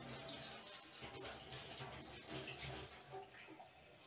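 Warm tap water running into a half-litre mug, a faint, continuous splashing trickle with slight gurgling changes, close by and alone.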